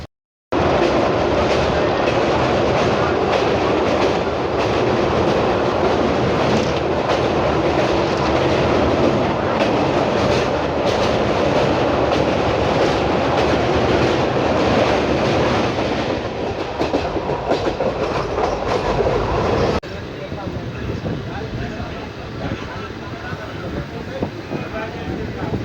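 A passenger train on the Katihar to Tatanagar route rumbles loudly and continuously from inside, with rapid clattering and a broad roar that drops in level and changes character for the last few seconds.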